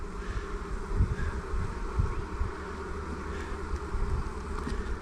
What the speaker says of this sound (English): Come on, get out of there, bee.